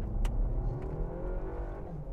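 A 2024 Cupra Ateca 2.0 TSI 4Drive accelerating at full throttle, its engine revving loudly and steadily for a couple of seconds, heard from close by with no talking.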